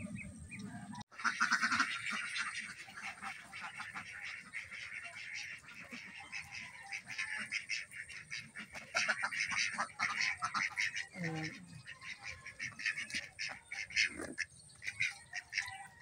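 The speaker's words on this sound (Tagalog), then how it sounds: "Naliligo na ang mga pato." Ducks on a farm splash and bathe in water, with scattered quacks and soft busy chatter over a steady outdoor background, mixed with distant animal calls and a voice.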